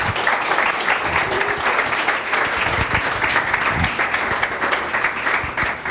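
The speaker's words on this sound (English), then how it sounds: "I would like to give a round of applause and thanks to our panelists." An audience at a science cafe on regenerative medicine applauds its panelists with a dense, steady wash of clapping that holds for several seconds, fairly loud and close, with no voices on top.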